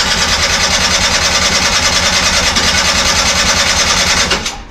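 A Honda Stream engine, its fuel system faulty, runs at a steady idle close by, with a constant loud mechanical rumble and buzz that holds evenly before cutting off abruptly near the end.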